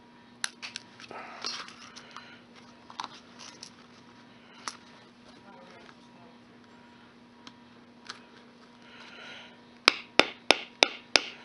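Hammer blows drive a rivet into a leather pistol holster, with scattered single taps early on and then a rapid close run of about six sharp strikes at the end, over a steady low hum.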